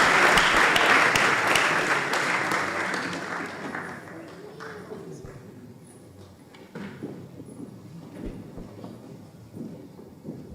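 Audience applause at the launch of the Ubuntu Online Academy, a loud wave of clapping that fades gradually over several seconds into scattered claps and murmuring voices.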